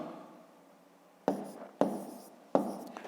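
Pen or pencil strokes on paper while working out a long division problem in a fifth-grade maths exercise, three short sharp scratching bursts spaced about half a second apart over a quiet room background, close and fairly faint.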